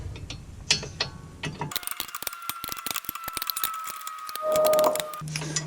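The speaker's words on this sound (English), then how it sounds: "So I'm going to tighten it up with a box wrench." A box wrench tightens a car brake bolt during a disc brake and rotor install, producing quick runs of close, sharp ratcheting clicks with a brief scrape of metal near the end.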